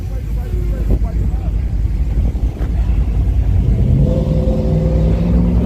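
A nitrous-equipped truck in the drag racing lanes revs and rumbles loudly and close, its engine tone rising toward the end, with a voice briefly heard over it.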